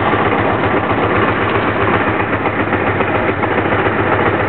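Honda Magna V65 motorcycle engine cranking and sputtering through a hard start, a loud, close, steady pulsing chug with no clean catch and no talk.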